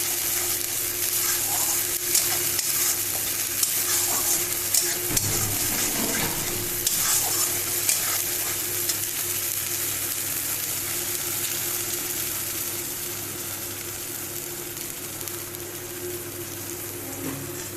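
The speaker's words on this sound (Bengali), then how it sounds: "এবার মশলাটা আমি কষাবো" Masala being fried and stirred in a pan for an egg korma makes a dense, continuous sizzle with scraping stir strokes, loud and close throughout, easing slightly toward the end, with no voices.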